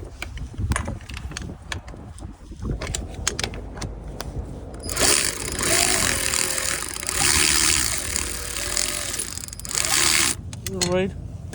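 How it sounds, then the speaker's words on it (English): Wrench work removing two starter bolts on a Dodge Challenger: clicks and metallic clinks, then a long loud buzzing power tool run, with a voice talking over parts. "Now we are going to remove these 2 starter bolts here."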